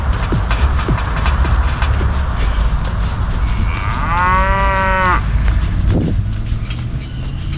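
A cow on open farmland gives one long, loud moo in the middle, heard over steady outdoor wind and rumble, with a few faint other sounds around it.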